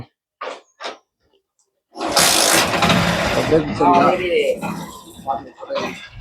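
A vehicle engine, on a bike being fixed for its rear brake light, cranks and catches, then settles into a loud, close idle, with someone speaking over it.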